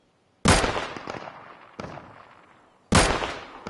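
Gunfire in the video game Deadside: three sharp, loud shots spaced about a second apart, each with a long decaying echoing tail, no talking.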